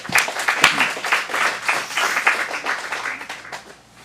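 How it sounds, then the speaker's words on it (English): Audience applause at an adult acting studio's script showcase in Phoenix, a dense burst of clapping with a few sharp individual claps that tapers off toward the end. "Round of applause."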